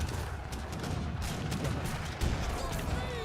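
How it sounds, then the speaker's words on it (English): Portuguese mortars fire in a real-time strategy battle from the game Age of Empires III, producing dense, continuous rumbling booms and gunfire that overlap throughout. "look at these Portuguese mortars, so disgusting."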